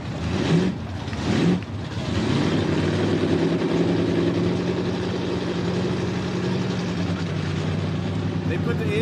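A mini truck at a Mini Mayhem night event in Millers Tavern, Virginia, gives off a deep, steady engine rumble at idle, with brief voices near the start.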